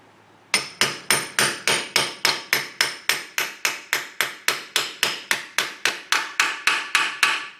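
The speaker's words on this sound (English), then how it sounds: "drive that bad boy in. You go use a socket here and punch that in" Steady run of about twenty sharp, evenly spaced hammer blows driving a socket used as a seal driver to seat a Ford 9 inch rear axle seal, close and loud with no talk.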